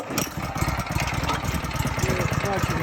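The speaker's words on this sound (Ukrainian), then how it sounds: "Ідеально запускається. Відкриваємо заслонку, запускається ідеально. Працює ідеально." A small Honda engine, repaired after a broken key, runs with a steady rapid chugging putter close by, while someone speaks over it.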